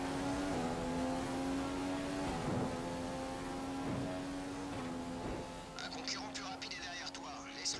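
A Formula 1 car in the F1 2015 video game running flat out down a straight with DRS open, a steady high engine whine with brief shifts in pitch, someone talking over it, then some rattling noise near the end.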